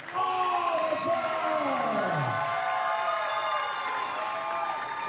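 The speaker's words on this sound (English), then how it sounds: "The fans here applauding the effort of Jordan Oliver" A wrestling crowd applauds Jordan Oliver at a Respect Wrestling event, a steady wash of clapping and cheering filling the venue while an announcer talks over it.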